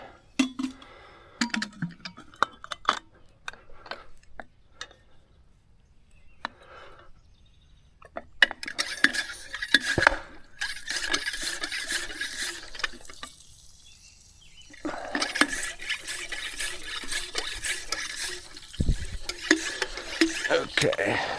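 A pressure sprayer pumped with clicking, ratcheting strokes, then a long steady hiss of spray close by, pausing briefly before the hiss resumes.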